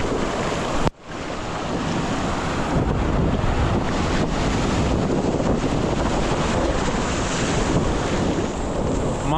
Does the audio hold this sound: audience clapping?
no